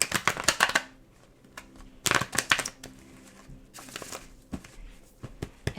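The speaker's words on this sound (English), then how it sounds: "I'll shuffle one more time right now." A deck of tarot cards is shuffled by hand in quick riffling bursts, crisp papery flutters separated by short pauses and softer handling sounds, close and fairly quiet.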